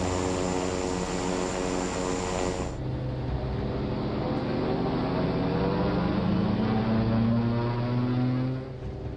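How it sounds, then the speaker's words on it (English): Twin propeller aircraft engines operating at different power levels drone steadily, two tones drifting apart in pitch, loud and continuous, a sharp shift early on and no talking. "Sounds like those two engines were operating at different power levels."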